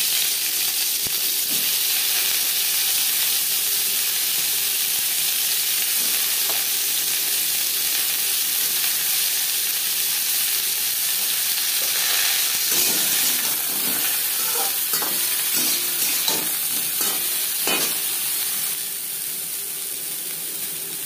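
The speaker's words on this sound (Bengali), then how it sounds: "সবার প্রথমে ফুলকপি ভেজে নেব" Cauliflower fries in oil in a pan with a loud, continuous hissing sizzle throughout, joined later by scattered clinks and scrapes of a utensil turning the pieces.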